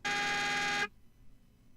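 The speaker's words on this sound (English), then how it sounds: "If you press one special key, K, ladies and gentlemen, you can make your tank sound like this." A single loud, buzzy electronic tank horn blast in World of Tanks, lasting under a second, stopping abruptly and leaving near silence.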